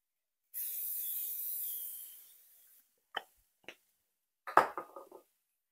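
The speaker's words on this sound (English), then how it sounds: "I'm going to be using the spray butter flavor" Butter-flavor cooking spray hisses steadily into a pan for about two seconds, fading out, followed by a few soft clanks and clicks of kitchen utensils.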